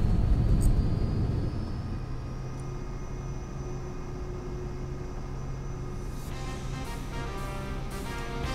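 Small airplane taking off from a runway near Queenstown, New Zealand: a steady droning engine roar with a constant rumble heard from inside, louder at the start, with a high whine running throughout.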